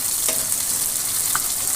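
Fish fry in hot oil with a dense, steady sizzle that fills the whole moment, close and even, with a faint clink or two and no voices.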